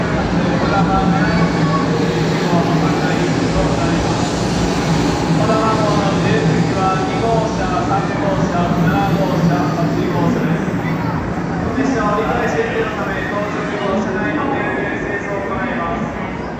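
A Kodama Shinkansen train, a 500 Series in Evangelion livery, rumbles steadily into Shin-Osaka station, its wheels clattering rhythmically while a station announcement plays over the noise.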